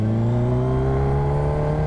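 Kawasaki Ninja H2 supercharged motorcycle engine pulling hard under acceleration in city traffic on a hot day, a loud close steady tone rising smoothly in pitch throughout, with no voices.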